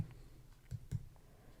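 A few soft, close clicks of calculator keys, pressed one at a time to enter the number 2,700, two slightly louder presses near the middle, then a faint final tap against quiet room noise.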